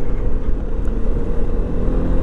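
A Yamaha XMAX 300 scooter engine on a test ride, a steady, loud droning hum mixed with wind rush, heard from the rider's position without speech.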